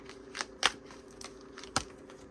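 Tarot cards from The Big Bertha Vol. 1 deck being given a quick shuffle, with a few soft crisp riffles and brushing flicks spread over a low steady room hum, close and fairly quiet.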